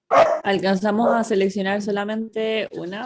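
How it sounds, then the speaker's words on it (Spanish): A pet dog barks repeatedly in a home, its barks running alongside someone speaking Spanish on a video call, loud and close. "perdón por mi perro"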